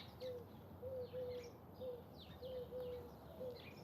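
Soft owl hoots sound repeatedly outdoors in the early morning, a series of short, mellow calls in loose pairs, fairly distant, over a low steady ambient rumble.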